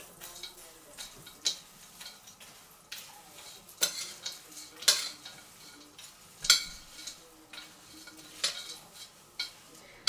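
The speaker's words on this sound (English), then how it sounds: "What you're gonna want to do is just give that a mix." A cinnamon mixture being stirred in a bowl, with a quiet run of irregular scraping and clinking utensil strokes that gradually grows louder, with no talking.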